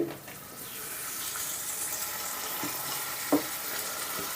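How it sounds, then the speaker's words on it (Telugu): Ginger garlic paste with turmeric and chopped tomatoes fries in a pan as a soft, steady sizzle, with a single sharp utensil tap near the end and a couple of quieter knocks. "ఈ అల్లం వెల్లుల్లి పేస్ట్ పచ్చివాసన పోయేంత వరకు వేపుకుందాం"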